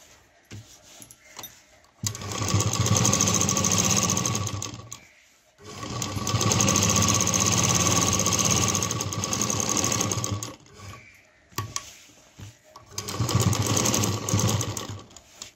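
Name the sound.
sewing machine stitching a tiffin bag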